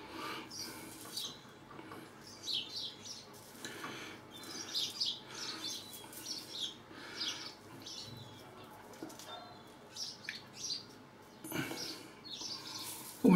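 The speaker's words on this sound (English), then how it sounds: "We've got birdsong accompanying us, I hear, outside the window." Faint birds chirp and tweet intermittently in the distance outside a window, with soft fluttering and a low background hum throughout.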